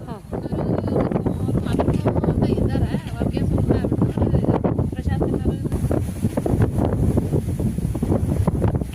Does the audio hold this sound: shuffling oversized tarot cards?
no